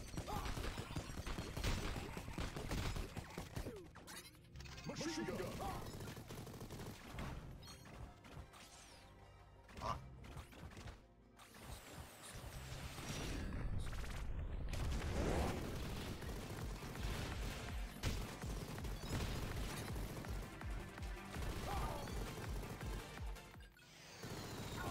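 Machine gun fire in the video game Mighty Goose, rapid crashing bursts mixed with heavy game sound effects, loud and continuous with brief breaks.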